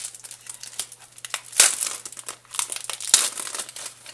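Vintage journaling cards are pulled from their plastic packaging with close, loud crinkling and crumpling in uneven bursts, sharpest near the middle and toward the end. No talking is heard.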